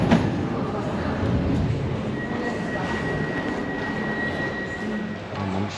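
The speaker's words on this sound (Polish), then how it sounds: "Jesteśmy na dworcu głównym i teraz mamy przesiadkę" Ambient rumble of a main railway station in Poland, with a steady hum of rolling stock and a faint high whine, continuous and moderately loud, no talking.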